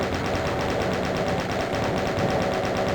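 A chaingun fires in Doom 2, a rapid, continuous stream of loud mechanical shots with no breaks, close and dominant.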